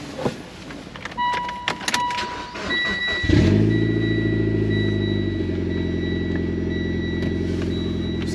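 The engine of a turbocharged AWD Lancer Final Edition with 83,000 miles cranks and catches at about three seconds, then settles into a loud, steady rumbling idle, after some clicks and an electronic chime.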